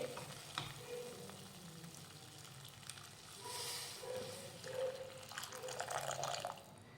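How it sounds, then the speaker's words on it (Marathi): Hot water splashes and bubbles into frying cashew curry masala in a hot pan, sizzling and gurgling quietly, with soft drips and clatters up close. "आता यामध्ये घालूयात गरम पाणी"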